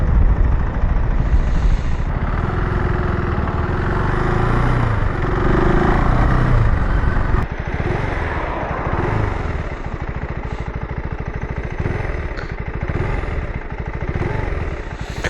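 A KTM 390 Adventure R motorcycle engine drones steadily while riding, loud and close, with heavy wind rumble and small shifts in engine tone partway through.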